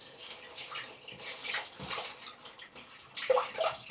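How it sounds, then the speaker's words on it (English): Water running from a tap into a bathroom basin, a steady splashing stream with gurgles and drips, close and fairly quiet with no talking. "So I'm just going to run some water in here."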